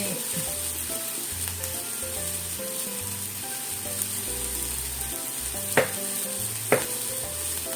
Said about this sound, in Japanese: トマトも一緒にブロッコリーと炒めますね。